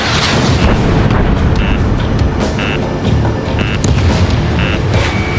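Explosions and heavy combat in Ace Combat 7, a dense, loud continuous roar of blasts and rumble with repeated sharp bursts, no voices.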